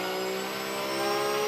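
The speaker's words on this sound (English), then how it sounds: "there's engine you can hear in the background" The flat-six engine of the Wright Motorsports Porsche race car drones steadily in the background at a racing circuit, a sustained harmonic whine holding at a constant pitch and slowly swelling a little louder.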